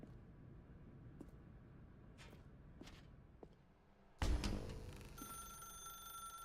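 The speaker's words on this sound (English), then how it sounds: "Now pick up the phone." A telephone rings in The Stanley Parable video game. A few soft footsteps are followed by a sudden loud burst, then a sustained electronic ringing tone that carries on alone.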